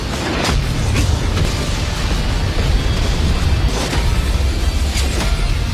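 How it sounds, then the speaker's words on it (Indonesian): A loud, sustained rumbling roar with deep booming bursts, like a massive explosion rolling on without pause. "menimbulkan efek ledakan yang dahsyat"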